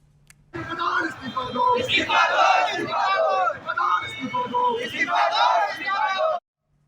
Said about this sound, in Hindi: जोर जोर से नारे लगा रहे थे वो